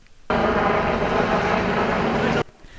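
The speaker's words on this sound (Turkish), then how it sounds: "uygulamaya polis helikopterleriyle havadan da destek verildi" A police helicopter supporting a roadside traffic check makes a loud, steady rotor and engine roar that cuts in abruptly and holds for about two seconds before stopping sharply.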